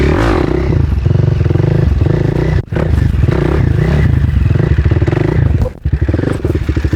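A motorcycle creeps along at very slow speed during wheelie practice, its engine a loud, steady close-up rumble with rattling and two brief drops as the clutch is pulled in.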